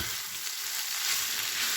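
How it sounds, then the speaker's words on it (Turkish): Pieces of chicken for döner wraps sizzle loudly in hot oil in a pan, a steady, bright crackling hiss with no talking. "sıcağıyla kızarmaya devam edecek"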